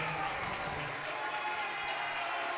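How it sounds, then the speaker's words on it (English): Players on a high school basketball bench stand and clap together in a gym, a steady dense applause filling the room, with a commentator talking over it. "the varsity bench, the JV and freshman guys sitting behind them all on their feet clapping"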